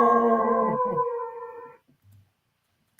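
A long, mournful howl from The Twilight Zone episode The Howling Man rises loud and alone, then fades out with a brief low murmur after it.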